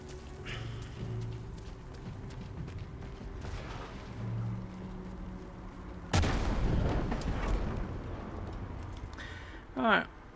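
A single heavy blast as an AA gun is destroyed in Sniper Elite 5, a sudden loud boom with a rumbling tail after a stretch of quiet ambience and faint distant shots, followed by a brief rising mechanical whine.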